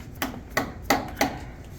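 Four evenly spaced, sharp taps of a hammer driving glued plugs into holes, each a crisp close knock a third of a second apart, alone without speech.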